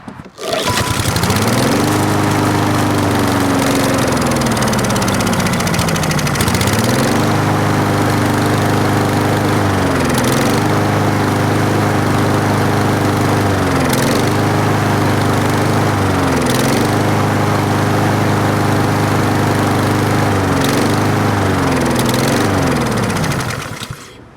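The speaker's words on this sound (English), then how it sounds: "I'm going to start the engine." A lawn mower engine, treated with Sea Foam fuel additive and intake spray, roars steadily and loudly for the whole stretch, its pitch dipping and rising every few seconds as it labors, with no voices.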